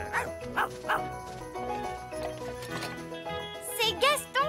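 A cartoon ladybird imitates a sheepdog with a voice, giving several short yappy barks in a row, followed by higher whining yips near the end, over light background music.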